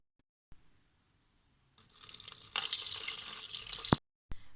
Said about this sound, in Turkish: Üzerine 700 gram su ilave ediyorum